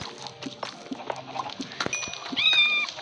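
A cat meows in the Minecraft game, with short mews rising near the end over a busy bed of soft clicks and game noises.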